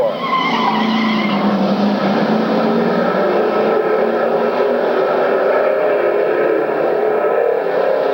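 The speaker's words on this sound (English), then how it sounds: "Starting to open up a little bit more real estate in front of Terry Charters and Ken McKenzie and the 6 and 85 car, respectively, as they come out of turn 4." Race cars come out of turn 4 on a track with a loud, sustained engine roar and tire noise that holds steady and close for several seconds.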